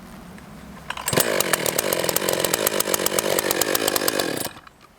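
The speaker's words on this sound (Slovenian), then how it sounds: "To je pravilen način vžiganja motorne žage." A chainsaw braced between the knees is started and catches at once, its engine roaring loud and close with a rapid buzzing pulse for several seconds before cutting back down.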